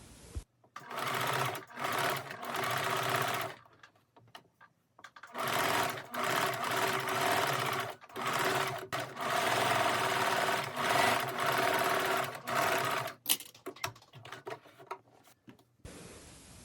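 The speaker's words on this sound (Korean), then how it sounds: "다림질 후에는 겉면에서 탑 스티치로 마무리를 해줍니다." Sewing machine top-stitching the outer side of a handmade winter trapper hat, a close rapid mechanical chatter in several bursts separated by short pauses.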